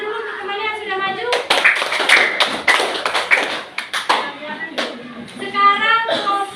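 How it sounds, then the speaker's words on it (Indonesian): Classmates clap for a fellow student after a presentation in a classroom, a loud patter of hand claps for several seconds, with voices heard talking over it. "tepuk tangan dulu untuk temannya yang sudah maju."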